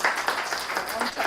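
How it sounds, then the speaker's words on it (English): Applause fills a city council meeting in a hall, a dense wash of many hands clapping at moderate distance, with voices mixed in, lasting only a moment. "How about a big round of applause?"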